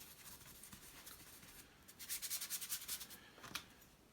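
A brush scrubs blue gouache across paper while laying the sky layer of a seascape: a soft, dry rubbing that grows busier and louder for about a second and a half mid-clip, then fades back to near-quiet.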